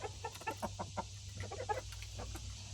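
Chickens near an automatic coop door give a series of quiet, irregular clucks and short murmurs, fairly close by, with no talking.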